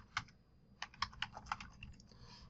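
Quiet, close typing on a computer keyboard, with irregular bursts of light key clicks and a short pause between runs, heard alone without speech.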